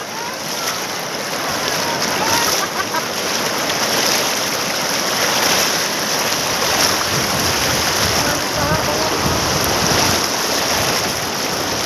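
Floodwater rushes loudly and continuously in Wadi Waghol, Latur, a steady broadband roar of fast-flowing water with no pauses and no voices.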